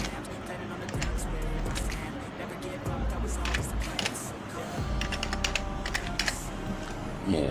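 Someone types on a computer keyboard while making a birthday flyer in Photoshop. Quick bursts of close key clicks carry on through the clip, with a voice in the background.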